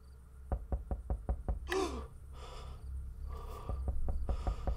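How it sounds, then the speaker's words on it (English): Rapid knocks on a wooden door in the horror game The Land of Pain, set in an old cowshed: two quick bursts of sharp raps around a brief creak, faint and hollow amid quiet ambience. "Someone's knocking on the door."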